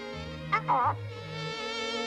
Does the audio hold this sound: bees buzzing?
yes